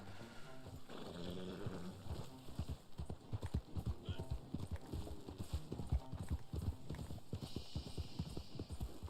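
Horse hooves trot in the Red Dead Online video game, a quick steady clip-clop rhythm that runs throughout at moderate loudness, with a person talking over parts of it.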